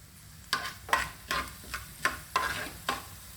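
Curry leaves and spices sizzle in a tempering pan beneath a series of about six scraping stirs, spaced roughly evenly, close by with no talking.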